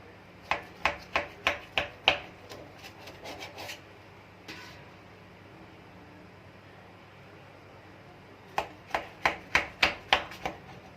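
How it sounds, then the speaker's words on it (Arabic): Knife chopping rolled mahshi into lengths on a cutting board, close and crisp, in a quick run of rhythmic cuts, then a pause with faint handling, then another rapid series of chops. "تبداي تقطعي الاطوال بقى اللي انت عاوزاها"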